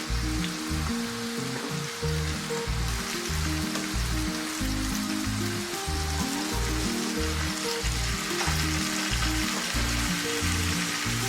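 Fries bubble and sizzle steadily in hot ghee or oil, a constant crackling hiss that runs unbroken alongside a rhythmic low backing beat.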